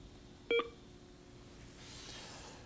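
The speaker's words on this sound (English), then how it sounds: "You can also turn the alarm on by pressing the Alarm button." A Canon Navigator HD40 word processor from 1990 sounds its alarm: one short, clear electronic beep near the start, then quiet room tone with no voices.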